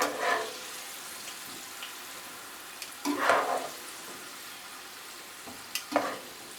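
Green beans and carrots fry in oil in a pan for Ethiopian fosoliya tibs, a soft, steady sizzle with a few louder bursts of crackling as the vegetables are stirred or moved.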